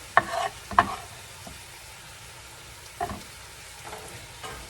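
Corned beef hash sizzles and fries in a pan while it is tossed around, with a few sharp scraping stirs early on and softer ones later over a steady, low crackle.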